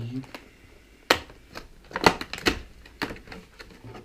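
Cardboard packaging of a Logitech M280 wireless mouse being opened, a few sharp crinkling rips and scuffs of card and paper close by, spaced irregularly with quiet gaps between them.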